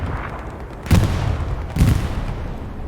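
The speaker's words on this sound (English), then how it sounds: "Another bombing run." Two heavy explosions from a video game bombing run thud close and loud about a second apart, each a sharp blast trailing off into rumbling noise.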